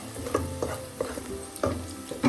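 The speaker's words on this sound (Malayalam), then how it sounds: "സവാളയും വെളുത്തുള്ളിയും ഒന്ന് വഴലുമ്പോൾ സൈഡിലോട്ട് മാറ്റി വെച്ചിട്ട്" Onion and garlic sauté in a pan: a quiet, close sizzle with repeated scraping stirs of a spatula at an irregular rhythm, several short strokes in a couple of seconds.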